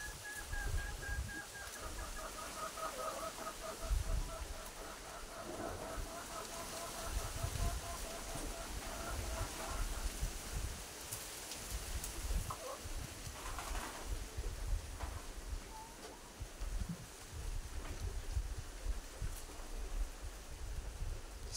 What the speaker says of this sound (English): So my birds are enjoying their mango leaves juice.